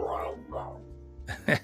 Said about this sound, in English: That's the dog, if you can hear that.